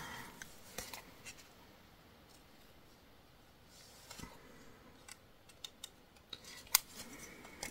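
Scissors cutting paper and die-cut pieces for a scrapbooking pocket letter, a series of quiet, close, sharp snips at irregular intervals over soft handling rustle.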